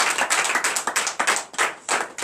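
Congregation at a night deliverance and prophecy service clapping in acclamation of Jesus, a run of sharp, uneven bursts of many hands, close and lively, with no talk.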